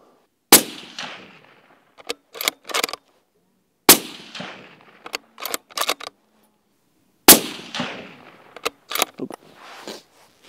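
A Sabatti Urban Sniper rifle fires three loud, sharp shots spaced a few seconds apart, each followed by smaller clicks and clunks of bolt handling.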